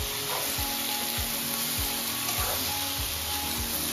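Eggplant frying in a pan gives a steady, close sizzle, with periodic scrapes and knocks as it is stirred in a regular rhythm.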